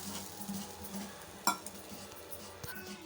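Grated coconut dropped into a kadai and stirred: soft scraping and patter with one sharp metallic clink of a utensil against the pan, close and quiet over a faint background hum, no talking.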